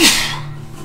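A single sharp sneeze bursts out close and loud at the start, then trails off into a breathy fade.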